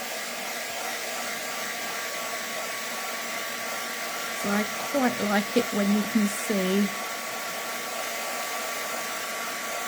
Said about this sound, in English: I'm going to give this a quick dry off.